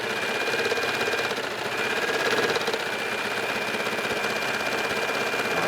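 A serger sewing machine stitches and trims two pieces of knit fabric for a jacket, running as a steady, close, continuous mechanical whir with a dense rapid chatter and no pauses.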